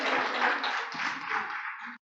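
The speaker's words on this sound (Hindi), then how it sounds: "एक बार सभी के लिए ताली बजा दे" An audience claps together at a Mother's Day gathering: a brief, steady round of applause from a group lasting about two seconds, moderately loud and cutting off abruptly.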